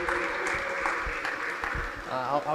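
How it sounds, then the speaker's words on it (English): Men gathered at a family meeting clap together in a steady, fairly loud round of applause, with voices talking and calling out through it near the end. "Give yourselves a round of applause"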